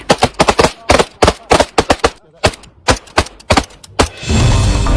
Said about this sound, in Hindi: आतंकी इस शख्स को मारने के बाद भी नॉन स्टॉप गोलियां बरसाते हैं